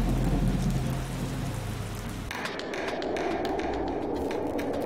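Pre-monsoon rain falls steadily at Ziro in Arunachal Pradesh, a loud continuous hiss of rain on surfaces with a deep rumble in the first seconds before it thins to a pattering downpour.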